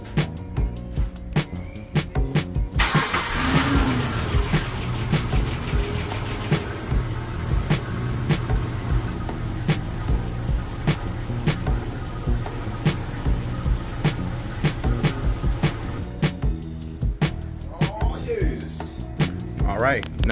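A Nissan Xterra engine cranks and starts after a timing belt job, settling into a steady idle with mechanical clatter, while speech is heard intermittently over it.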